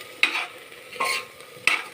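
Cumin seeds frying in ghee are stirred with three distinct scraping strokes spaced across the moment, over a faint, quiet sizzle.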